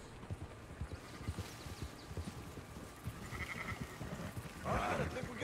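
Horse hooves clip-clop steadily in Red Dead Redemption II while sheep bleat close by, the bleating growing louder near the end, with voices talking over the scene.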